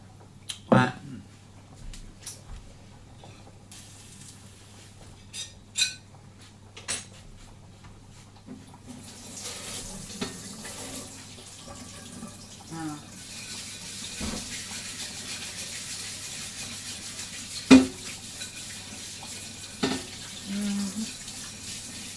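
Plates are washed up under a running tap in a home sink, with a faint steady water hiss, occasional clinks of crockery, and a person talking over it now and then.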